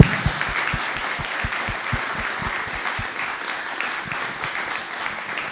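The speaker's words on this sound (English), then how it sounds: "let's give Brittany Nicole Cox a final round of applause." Audience applause closing a lecture on a mechanical jewel-feathered bird, a dense steady round of many hands clapping that carries on throughout, slightly tapering toward the end, with no voices over it.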